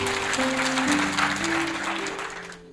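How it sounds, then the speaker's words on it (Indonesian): Audience applause during a religious sermon, a dense, steady wash of clapping held at full strength for about two and a half seconds before cutting off, with faint tonal hum beneath. "Kita beri tepuk tangan untuk kebenaran ini."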